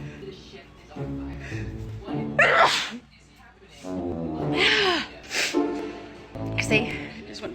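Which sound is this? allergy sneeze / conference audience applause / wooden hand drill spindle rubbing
allergy sneeze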